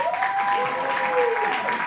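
A gospel conference audience claps for the interpreter in a brief burst, with a rising and falling vocal whoop riding over the clapping.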